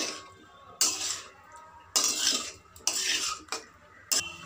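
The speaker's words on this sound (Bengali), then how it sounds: "এবার এর মধ্যে দিয়ে দেবো সেদ্ধ করে রাখা গাজরের রিংগুলো, দিয়ে ভালো করে মিশিয়ে নেব" A spoon scrapes and stirs boiled carrot rings through a thick ketchup sauce in a pan, four distinct close stirring strokes separated by short pauses, with quiet music behind.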